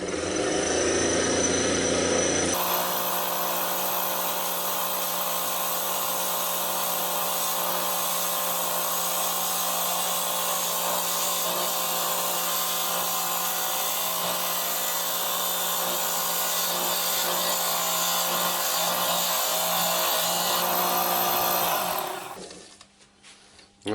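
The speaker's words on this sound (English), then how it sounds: "I'm just taking nice light cuts with the spindle gouge and getting a lovely finish on it" A wood lathe spins a vase turned from offcuts while a spindle gouge takes light cuts, a continuous loud whirring hum with faint scraping. It runs steadily for about twenty seconds and then winds down at the end.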